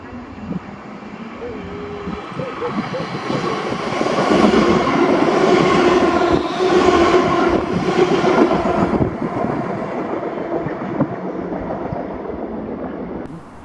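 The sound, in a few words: ScotRail passenger train passing through Paisley Gilmour Street station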